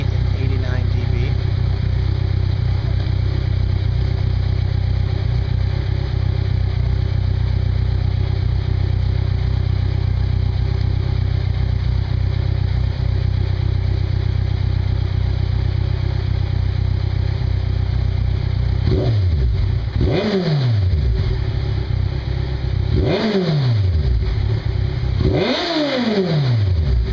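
A 2012 Kawasaki Ninja 1000 with an Urban Brawler CS One exhaust and baffle idles steadily for a long stretch, then gives three sharp throttle blips, each revving up and falling back quickly, loud and close.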